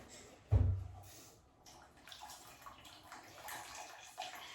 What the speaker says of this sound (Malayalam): ഇതാണ് പുളി വെള്ളം റെഡി ആയിട്ടുണ്ട്. നമുക്കിതിലേക്ക് ഒഴിച്ചു കൊടുക്കാം